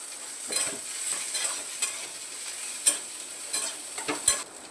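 White sesame seeds roasting dry in a pan, a faint steady sizzle broken by light scraping taps of a stirring utensil, quiet and close, no talk.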